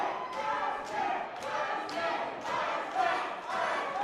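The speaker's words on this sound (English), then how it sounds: "Crowd's chanting for the Iceman." Wrestling event crowd chanting for a wrestler, rhythmic unified chant with regular loud beats about every half second, filling a hall.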